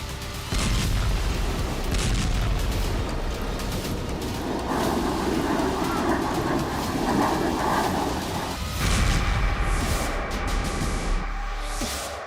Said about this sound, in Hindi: वीडियो एक ऐसी बमबारी का है जो अर्दवान के लड़ाकों को ताकत देगी।